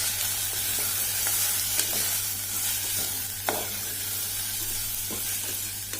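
Dal being stirred in a frying pan over low heat, a steady sizzle under soft scraping strokes of the spoon, with occasional sharper clinks against the pan.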